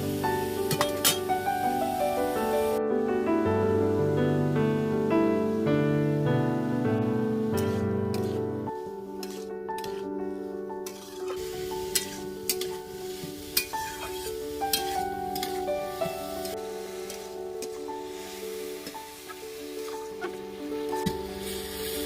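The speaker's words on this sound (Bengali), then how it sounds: "এবারে লাউয়ের মধ্যে একদম পরিমাণ মতন লবণ দিয়ে দেবো দিয়ে কিছুক্ষণ ভেজে নেবো" Bottle gourd (lau) fries with salt in a pan for a lau posto dish, giving a continuous sizzle with occasional stirring scrapes and clinks under steady background music.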